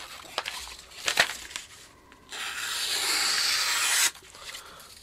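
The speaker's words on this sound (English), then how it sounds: "the best option for a Mora Companion is to sharpen it like a Scandi" A Mora Companion knife with a Scandi grind being sharpened, giving short gritty rubs followed by a longer, steady abrasive scrape of the blade across a stone, close and quiet.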